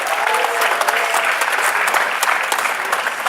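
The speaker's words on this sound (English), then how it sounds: "Let's give him a round of applause." Audience at a school district career and technical education awards evening applauding an honoree, brisk, close, evenly sustained clapping from many hands with a few sharper individual claps standing out.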